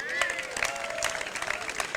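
Audience applauding the fundraising partners at the Rice Park grand reopening in St. Paul, a continuous patter of clapping from a crowd, with a voice speaking over it.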